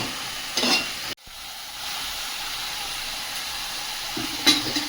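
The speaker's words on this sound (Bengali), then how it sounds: "ভালো করে কষিয়ে নেব" Bitter gourd is sautéed in a pan, giving a continuous close sizzle with a scrape of stirring early on and again near the end, broken by one sharp cut in the sound.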